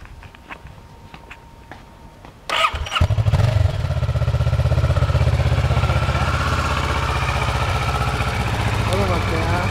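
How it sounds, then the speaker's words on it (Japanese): A 2012 Kawasaki ER-6n motorcycle, an export model, starts up after a few seconds of quiet background talk and then settles into a steady, close, throbbing idle that runs to the end. "このエンジン音聞かせてくれる？"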